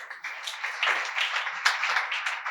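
An audience claps hands together at a Sunday healing and prophetic prayer session, a close, continuous patter of clapping that swells and dips over a couple of seconds.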